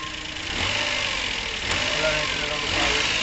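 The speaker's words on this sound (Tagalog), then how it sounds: "nakikita naman natin na nawala talaga yung panginginig ng makina" A car engine idles smoothly with the air conditioning running, a steady, even mid-range hum with no shaking or rough pulsing, held close and constant throughout while a voice may be faintly present underneath.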